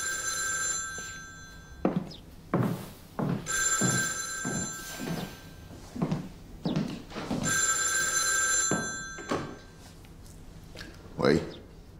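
An old-style telephone bell rings in three long bursts with gaps between them, in a 1940s-era office. Voices talk between and over the rings, and the ringing is clear and close.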